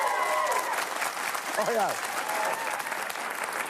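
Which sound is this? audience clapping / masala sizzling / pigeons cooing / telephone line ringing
audience clapping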